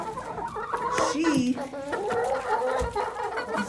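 A backyard chicken clucks in the cold before a blizzard, giving a few short, close clucks and a rising squawk. A voice talks in the background.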